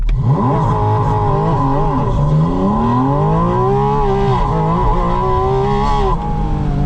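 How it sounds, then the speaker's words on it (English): A 2025 Porsche 718 Spyder RS launches hard under launch control. Its engine and the intakes just behind the cabin roar loudly and continuously from inside the car, with the pitch climbing and falling through the gear changes. No voices are heard. "Launch control in the Spyder RS. Here we go."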